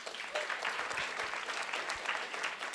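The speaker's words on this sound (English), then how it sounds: "A round of applause for Printify." Fairly quiet, steady clapping from a hackathon audience in a university building, acknowledging a sponsor, with a continuous patter of many hands and no voices over it.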